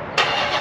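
A Dodge Charger Hellcat engine fires up after a brief quiet moment, bursting into a loud, close, broadband roar that settles into a steady rumble with a slight swell near the end.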